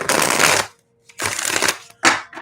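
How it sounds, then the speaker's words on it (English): A tarot deck being shuffled by hand in three quick bursts of riffling with short pauses between them, close and crisp, with no talking. "let me shuffle really quickly for Aquarius"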